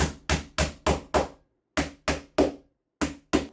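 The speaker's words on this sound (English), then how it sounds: "Once we're in position, just hammer those in." Carpet gripper being hammered into wooden stairs: sharp, close hammer blows in quick bursts, five strikes, a short pause, then more strikes in an uneven rhythm with no talking.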